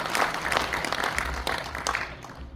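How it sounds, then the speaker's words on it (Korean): An audience at a church elders' association general assembly gives a warm round of welcoming applause, steady clapping that fades out near the end. "환영하는 박수 한번 주시기 바랍니다."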